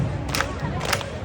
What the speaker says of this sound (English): it ends with a bunch of people clapping together